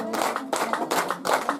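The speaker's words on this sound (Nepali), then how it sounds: "तालीमा कन्जुसी नगरौँ।" Audience clapping at a foundation-stone ceremony, several quick bursts of applause from a small crowd, fairly close and moderately loud, with no talk over it.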